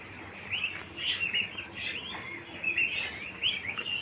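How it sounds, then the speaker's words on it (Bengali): Egg-laying quails on a farm at Dulai Bazar, Pabna, chirp in short, faint, high tweets scattered through a quiet background. "যে পাখিগুলো ডিম পারে সেই কয়েল পাখিগুলো"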